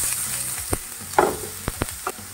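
Onions sauté in a hot pan with a steady sizzle, broken by a few clattering stirs and scrapes of a spoon.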